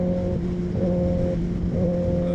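2022 Kawasaki Ninja ZX-10R engine held at constant throttle while riding, a loud, steady, close drone with slight surges in pitch and no talking.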